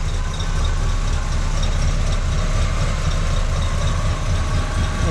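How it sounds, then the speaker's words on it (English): An Oldsmobile Cutlass Supreme tribute car engine idles with a low, even rumble, constant and close, with no voices. "Engine sounds great."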